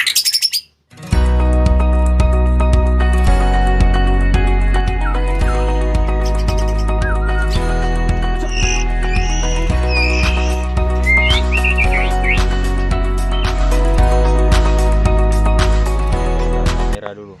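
A white-rumped shama (murai batu) sings in bright chirps and whistled phrases, rising above a loud, steady music track with a throbbing low beat that runs throughout.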